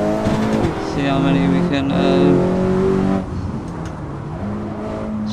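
Honda Civic Type-R FK8 engine, tuned, in the Assetto Corsa racing game, holding a steady high rev with gear shifts, loud and continuous beneath someone talking throughout.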